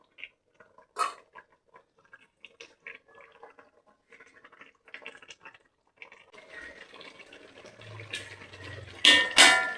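A pot of chicken curry, sweetened with a little sugar, simmers on the stove. Soft bubbling and sizzling grow louder toward the end, with scattered clinks of a spoon against the pot before it.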